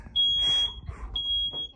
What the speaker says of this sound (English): We also had the surprise of having the fire alarm go off in the condo